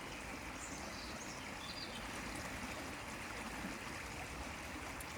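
Steady, continuous rush of water flowing close by outdoors, constant and even throughout with no speech.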